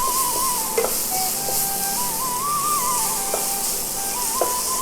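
Grated beetroot for halwa fries in ghee in a pan, a steady close sizzle broken by a few soft scraping stirs, with a faint wavering tone running through.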